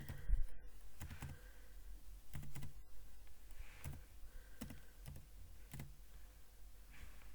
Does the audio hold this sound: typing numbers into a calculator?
yes